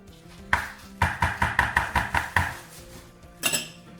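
Chicken for tikka masala being mixed with yogurt marinade in a bowl, giving a run of about eight wet, evenly paced slaps and knocks against the bowl, then a sharper clatter near the end.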